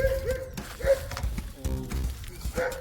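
A small native desi horse moves about outdoors with scattered hoof clops and light animal sounds, close by under a busy background of ambient noise.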